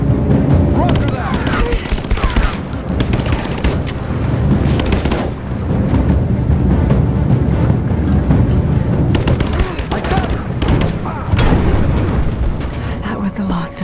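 Sustained gunfire and booming blasts in the video game Rise of the Tomb Raider, loud and dense with rapid shots and heavy impacts in repeated bursts, with voices shouting over the fight.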